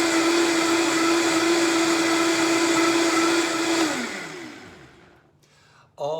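A blender whirs loud and steady with a strong motor hum while mixing a mango chai smoothie with a pinch of ground cinnamon. The motor winds down and stops after about four seconds, then brief quiet is followed by a short clatter.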